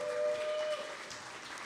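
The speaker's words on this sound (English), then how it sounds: "Give yourselves another round of applause" Sports fans at a live show with a Packers Hall of Famer clap in a brief, steady burst of applause that tapers off slightly, with no talking.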